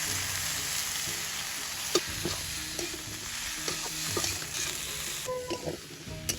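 Ash gourd pieces sauté with turmeric in a hot pan for a village-style ash gourd and prawn curry: a close, steady sizzle broken by repeated spatula scrapes and stirring knocks, with no talking.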